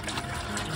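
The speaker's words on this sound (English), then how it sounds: "I'm gonna add another 4 gallons of sweet water into here." Fresh water pours into a bucket for flushing a sailboat engine's heat exchanger, a steady broadband splash that runs continuously and fairly close for under a second.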